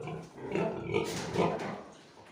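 A large sow at a feeder on a pig farm grunts and snuffles as she eats, giving several low, rough grunts close by, with no talk.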